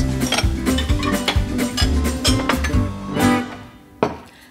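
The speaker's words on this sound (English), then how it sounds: "first we need to get all the clean dishes out." Clean dishes clatter as they come out of a household dishwasher: repeated clinks of plates, cutlery and crockery knocking together close by, ending with one sharp final clank.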